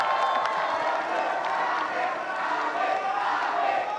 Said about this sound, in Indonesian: Sekarang boleh tepuk tangan